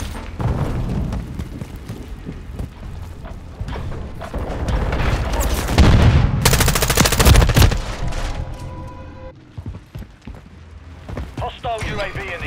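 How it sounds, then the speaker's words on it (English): Rapid automatic gunfire from Call of Duty Modern Warfare 3 multiplayer crackles in bursts alongside mechanical clatter and booms, swelling into a loud sustained volley mid-way, with game voices calling out over the action. "Taking effective fire!"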